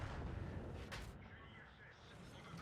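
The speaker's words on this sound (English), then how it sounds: "Artillery." Artillery fire in the tank game Men of Elite rumbles as a deep, booming roar with one sharper crack partway through, fairly faint and distant under the game's ambience.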